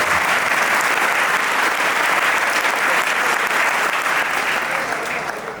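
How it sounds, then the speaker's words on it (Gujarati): A large audience at a Gujarati comedy folk-performance evening bursts into sustained, dense clapping that holds steady and loud from start to finish, easing slightly at the very end. "તાળી પાડી દો."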